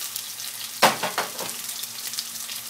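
Onion and brinjal cubes hit a hot pan and sauté, a sharp burst of sizzling that settles into steady crackling frying, close and alone without talk.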